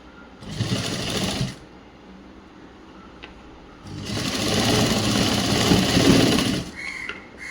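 An electric sewing machine runs two bursts of stitching on a school uniform chudi top, a short run then a longer steady whirring run, loud and close with a quiet pause between.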